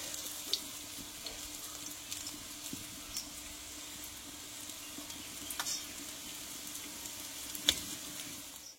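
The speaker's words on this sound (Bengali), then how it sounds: "দেখো এইগুলো আমি আগে ভেজে নেব।" Lentil fritters (bora) fry in a pan of oil, a faint continuous sizzle with occasional soft crackles and light clinks, close by and fairly quiet throughout.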